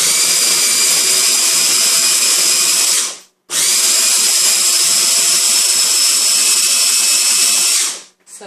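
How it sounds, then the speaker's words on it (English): A kitchen grinding appliance whirs loudly with a high, steady motor whine while grinding mustard, turmeric and spinach, running for about three seconds, stopping briefly, then running again for another four seconds before cutting off. "So I'm first going to grind this all up together."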